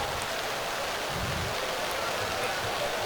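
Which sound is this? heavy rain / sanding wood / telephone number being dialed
heavy rain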